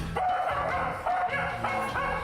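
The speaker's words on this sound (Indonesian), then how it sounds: "Gonggongan anjing betina ternyata meluluhkan anjing liar tersebut" Stray male dog barking and yelping close by in a rapid run of sharp, strained barks over a steady noisy background, no talk.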